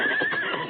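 Short, loud whinny from a sleek black horse balking on a steep slope, a single shrill neigh heard close up.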